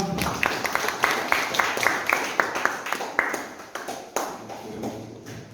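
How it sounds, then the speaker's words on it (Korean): Applause at an indoor book concert and art exhibition welcoming a guest professor: scattered, moderately close hand claps in an uneven patter that thins out toward the end. "박수를 부탁드립니다"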